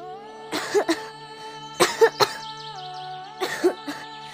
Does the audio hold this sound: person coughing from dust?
yes